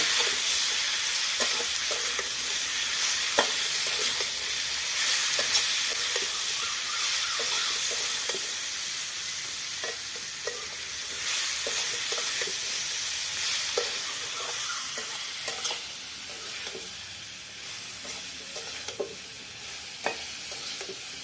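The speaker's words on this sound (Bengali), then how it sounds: "গুঁড়ো হলুদ দিয়ে ভালো করে আমি কষিয়ে নেব" Helencha greens frying in a pan with turmeric powder, a steady bright sizzle and hiss running throughout with occasional stirring scrapes, close and continuous with no talking.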